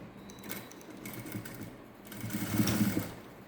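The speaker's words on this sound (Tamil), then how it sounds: "கெட்டி தையல் போட்டு ஸ்டார்ட் பண்ணுங்க." Sewing machine running in steady bursts while stitching elastic onto a peplum top, the motor whirring louder toward the end, with no talking.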